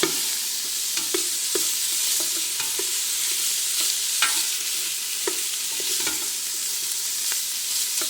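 Diced kielbasa sausage and onions fry in a pan for sausage, kale and potato soup, giving a steady close sizzle with occasional light stirring scrapes throughout and no talking.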